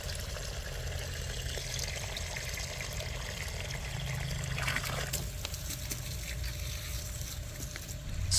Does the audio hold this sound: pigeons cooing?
no